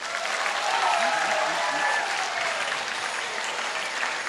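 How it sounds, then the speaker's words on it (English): School audience at Korah Collegiate giving warm applause to welcome a speaker before an Indigenous hoop dance, dense steady clapping from a large crowd with a few faint voices mixed in. "let's bring her in with a warm round of applause"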